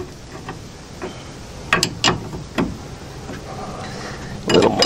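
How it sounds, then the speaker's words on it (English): Lock nuts being loosened by hand on a VW Beetle drop spindle, giving a few close, sharp metallic ratcheting clicks and scrapes in short bursts with quiet gaps between. "What I'm going to do is I'm going to loosen up the nuts until they are almost completely off"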